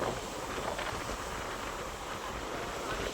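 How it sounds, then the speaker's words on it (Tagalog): Strong wind roars steadily at a seaside fish terminal in Julugan, Tanza, Cavite, a loud, unbroken rush of broadband noise buffeting the microphone over rough surf. "At napakalakas ng ating hangin."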